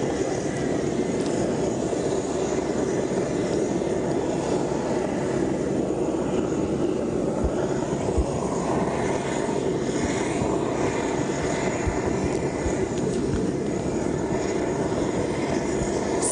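An Air New Guinea plane carrying Pope Francis departs Jackson's International Airport in Port Moresby, Papua New Guinea: a continuous, steady aircraft engine roar at moderate distance, with no voices.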